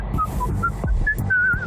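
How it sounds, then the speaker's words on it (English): Cheerful whistling by a character in the video game Whispers of a Machine, a short melodic tune of several clear, bright notes whistled close by over low background rumble. "Whistling cheerfully?"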